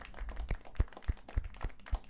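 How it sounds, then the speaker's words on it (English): Applause during an online AMA session: a small, sparse round of about six distinct hand claps at a steady, slightly uneven rhythm, close and fairly clear, with no talking over it. "let's give a little applause for that"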